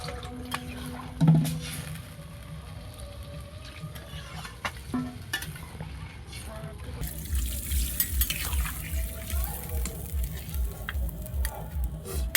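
Water is poured into a pan of fish curry on the stove, a splashing, sizzling rush that rises in the second half over stirring and frying sounds, close and moderately loud.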